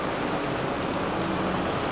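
Steady rain falls at midnight, a dense, even hiss of drops on surfaces, loud and close, with no voices.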